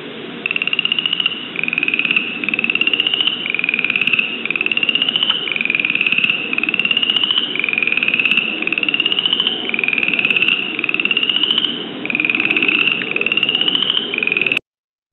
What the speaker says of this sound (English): So generally the first frog to call in New Jersey is the chorus frog.